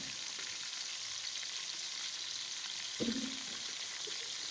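Garlic fries in a pan with a steady, bright sizzle that hisses evenly, and a short utensil clatter lands partway through; no one speaks.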